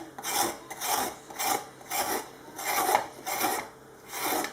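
A courgette halved and scraped along its skin, giving seven rhythmic rasping strokes at an even pace, close and fairly quiet, with no talking.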